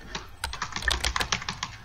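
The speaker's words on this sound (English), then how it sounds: "I'm just randomly typing things." Quick, irregular clatter of keys on a computer keyboard during a chat in the game Emily Is Away, a short close burst of several rapid keystrokes.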